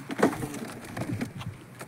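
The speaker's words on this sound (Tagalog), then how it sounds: "Ibon pala yun." A bird calls near a cast-net fishing spot by some stairs, with a few soft cooing notes, one stronger call early on and quieter repeats after it, over faint background noise.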